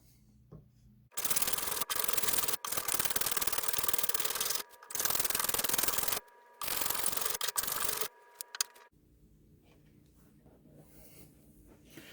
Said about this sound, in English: Just going to use a block plane.